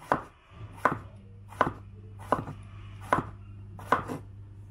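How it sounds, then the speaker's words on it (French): A knife finely chopping courgette on a cutting board gives six crisp, evenly spaced chops close by over a low steady hum, with no talking. "je vais continuer à découper le reste de ma courgette"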